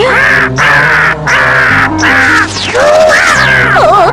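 Loud, harsh cawing repeats in several drawn-out calls, close and insistent, with wavering tones at the end.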